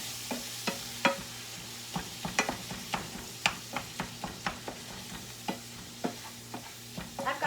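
About 1.5 pounds of ground beef seasoned with onion and garlic powder cooks in a pan, a steady soft sizzle broken by a run of sharp scraping clicks as a utensil stirs and breaks up the meat, close and moderately quiet.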